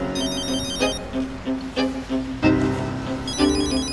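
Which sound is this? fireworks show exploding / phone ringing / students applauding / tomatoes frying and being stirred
phone ringing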